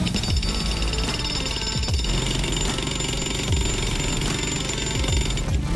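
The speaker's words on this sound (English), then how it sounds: "This is a jackhammer, so we're going to get you to do some jackhammering." Loud, continuous jackhammer pounding breaking concrete during fire rescue training, a rapid mechanical hammering that stays steady and close throughout with engine noise beneath it.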